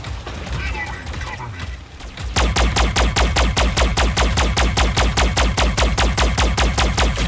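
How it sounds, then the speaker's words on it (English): Rapid automatic weapon fire from mechs in the video game Mech Arena, a loud steady hammering stream of shots that kicks in after a brief stretch of mixed battle noise. "Enemy fire."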